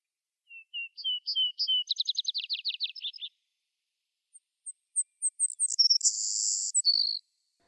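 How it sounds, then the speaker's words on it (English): A savannah sparrow on the beach at Parksville gives a series of thin, high chips and a buzzy trilled song close by, then after a pause more sharp chips and a hissing buzz, in otherwise quiet surroundings. "This savannah sparrow is sheltering from the cold autumn winds behind a log on the beach at Parksville."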